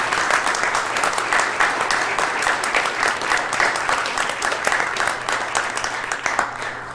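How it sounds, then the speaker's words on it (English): Audience at a township committee meeting gives a sustained round of applause for junior football league champions, dense steady clapping that fills the room at close range, with faint voices underneath. "let's give these guys all a great round of applause"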